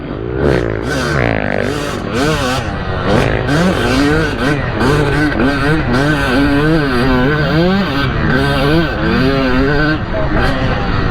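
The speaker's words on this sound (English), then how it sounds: "That hole in my exhaust is sucking the power of it." A race motorcycle with a holed exhaust revs hard around a circuit, its loud, rasping engine note rising and falling through repeated throttle swells and shifts, with a rider talking over it.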